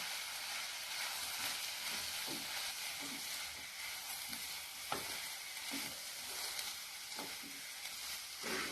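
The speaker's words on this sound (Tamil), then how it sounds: "திறந்து ஒரு கிளறி விட்டுக்கலாம்" Chayote (chow chow) stir-fry being stirred in a pan, with a steady frying sizzle throughout and several soft scraping strokes spaced a second or two apart, close by and without speech.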